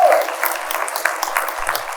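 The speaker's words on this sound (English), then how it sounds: "You got your own cheering squad." Audience applauding at a village board of trustees meeting, a steady patter of clapping filling the room for two seconds with a brief voice at the start.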